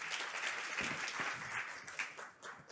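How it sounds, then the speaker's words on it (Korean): An audience at a university presidents' seminar applauds to welcome a student speaker, a steady wash of clapping from a sizable crowd, fairly faint and distant. "박수로 맞이해 주시기 바랍니다."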